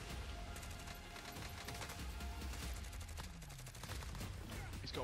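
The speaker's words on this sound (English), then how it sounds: "He's shooting me" Call of Duty Warzone firefight with steady rattling gunfire and scattered bursts filling the whole stretch at moderate volume, no one talking.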